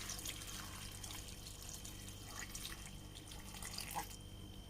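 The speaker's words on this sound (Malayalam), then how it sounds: "ഇനി നമുക്കിതിലേക്ക് വേവാൻ പാകത്തിനുള്ള വെള്ളം ഒഴിച്ച് കൊടുക്കാം." Water being poured into a cooking pot of Udupi temple-style sambar with tomatoes, a steady splashing pour running continuously close by, with no voices.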